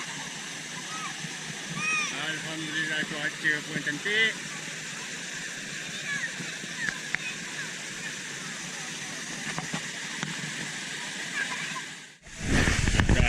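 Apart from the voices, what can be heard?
Latak Bunta waterfall, Sungai Dua Karak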